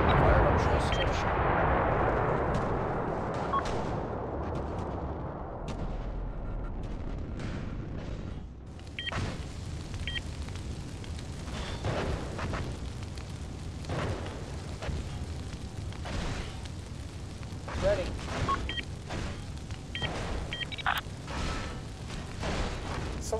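Naval video game battle with artillery gunfire, a heavy rumbling barrage up front followed by repeated sharp distant blasts and pops scattered throughout, with voices of players talking over the combat.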